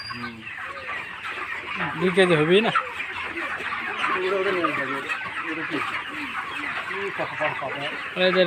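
Chickens in a poultry farm being sprayed against a virus cluck and squawk close by in a busy, overlapping chorus while someone talks over them.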